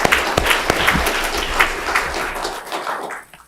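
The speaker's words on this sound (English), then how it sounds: "a round of applause for them." A room at a mayoral candidates forum breaks into a loud, close round of applause with scattered sharp claps, sustained for a few seconds before quickly fading out.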